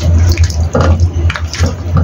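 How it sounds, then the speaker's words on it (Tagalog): Cornstarch-and-water slurry pours into a pan of sautéed ribs with Chinese yam, a close, bubbly liquid splash and sizzle rising and falling in short bursts, with brief talk around it. "This time, lagay natin yung ating slurry."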